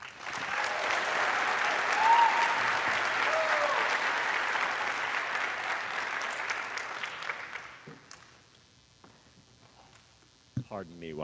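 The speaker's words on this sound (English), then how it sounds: "How about one more round of applause for 5A?" An audience at an elementary school fifth grade promotion ceremony applauds in a steady, dense wash of clapping for several seconds, then it thins and fades into a quiet room with a few scattered noises.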